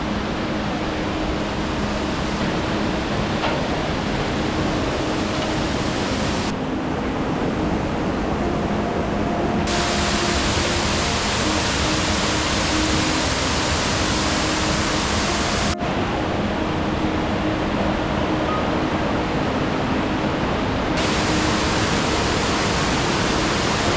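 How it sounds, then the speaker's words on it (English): Steady broadband rush of a remote waterfall on Lombok, a constant roar that fills the clip without pause, its brightness shifting slightly at times. "But you can hear the waterfall."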